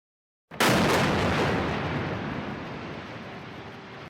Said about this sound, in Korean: 폭발음과 함께 가자지구 안에 있는 12층짜리 건물이 순식간에 무너져 내립니다.